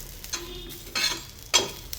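Thick green chillies dry roast in a pan without oil, giving soft crackling hisses, with a few louder scraping stirs and knocks at intervals, close and without any voices.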